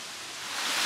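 Running water near a swampy area of a Florida state park, a steady broadband rushing hiss that swells slightly louder toward the end, with no voices.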